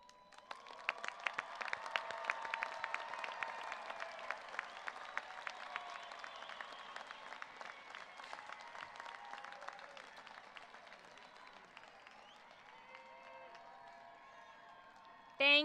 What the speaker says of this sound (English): so you may receive our applause